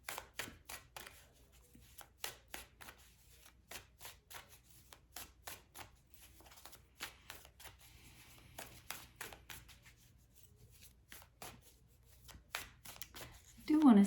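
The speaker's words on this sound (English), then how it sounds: "I am staying quiet just a tad while I pull the cards for you." Tarot cards shuffled and pulled by hand in quiet, a long run of soft riffling flicks and slaps repeating in uneven bursts, close and fairly faint, with a brief voice near the end.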